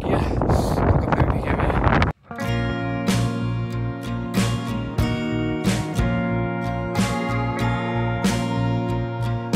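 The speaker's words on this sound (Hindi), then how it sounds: "बहुत तेज़ हवा चलने लगी है।" Strong wind buffets the microphone on a high mountain road in Ladakh between Nubra and Durbuk, a loud roaring rush that cuts out briefly and returns as steady heavy gusting over a rumbling vehicle.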